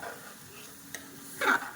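Soaked rice being stirred in a frying pan over a faint sizzle, quiet scraping with a small tap and a brief louder scrape near the end, close and without speech.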